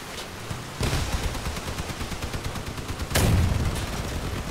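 Rapid gunfire and cannon blasts in the vehicle combat game Crossout, a dense stream of shots with a louder booming burst partway through, continuous and close with no talking.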